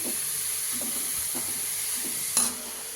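Grated carrot fries steadily on a low flame for carrot halwa, giving an even close hiss with soft stirring scrapes every half second or so and a sharper scrape near the end.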